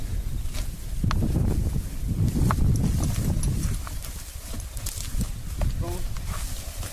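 Horses' hooves clip-clop along at an uneven walking pace, fairly close, with voices talking and faint rustling around them.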